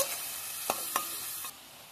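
Three medium onions, finely chopped, frying in a pan until browned, a soft sizzle marked by a couple of sharp stirring scrapes before the sound drops away.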